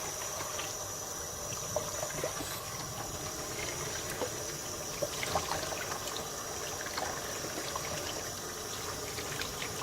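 Cool tap water streams and trickles over a wig as it is rinsed, a steady splashing flow with faint irregular drips and spatters throughout, and no talking.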